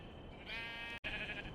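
A sheep in the Minecraft video game gives a faint, drawn-out bleat that is briefly cut off and then resumes, heard alone with no talking.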